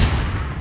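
A Confringo fire spell blast in Hogwarts Legacy erupts as a loud, close, booming burst with a rumbling low end, fading quickly.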